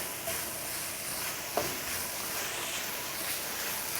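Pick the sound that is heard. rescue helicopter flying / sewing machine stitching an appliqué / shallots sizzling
shallots sizzling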